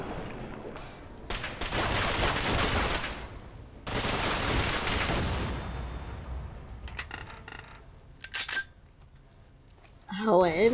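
Turret gunfire in the Fallout video game comes as dense, sustained rapid-fire bursts with a sharp cutoff between them, followed by scattered shots and clicks, ending with a voice speaking.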